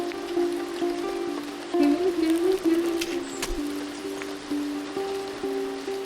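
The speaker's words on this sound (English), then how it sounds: "Nice rain with a little music in the background." Rain falls in the video game Press Any Button, a steady soft hiss of drops that runs throughout, with gentle tonal background music layered over it.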